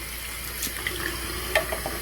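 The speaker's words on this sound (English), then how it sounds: "so I will run the water on hot" Hot water runs steadily from a tap into a sink, a soft continuous splashing rush with occasional brighter drips, close by and quiet, with no talking.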